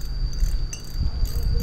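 Rapid, even clicking from the line-alarm clicker on a Daiwa Basia QD45 fishing reel as the spool is turned by hand, heard up close without speech over a faint low rumble.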